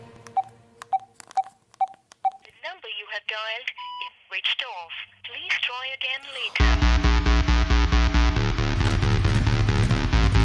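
A phone call being dialed in a Tamil horror film: a run of evenly spaced keypad beeps, then warbling ringback tones, then a loud sustained burst of sound, with faint voice underneath.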